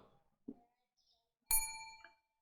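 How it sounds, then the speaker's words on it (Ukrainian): A customer-waiting notification in Supermarket Simulator sounds as a single bright bell-like ding with a ringing decay, after a few faint soft clicks in an otherwise quiet game scene. "Добре зроблено, що тут є таке як повідомлення, що клієнт очікує."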